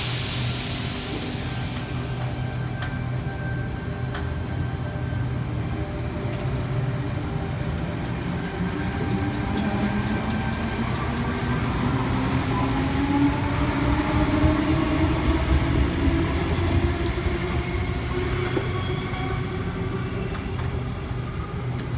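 Sydney Trains service to Emu Plains pulling out of platform 3 at Penrith with sets T71 leading and T77 trailing: a steady loud rolling rumble with rising motor whine and drifting pitch, building slightly then holding, no talk.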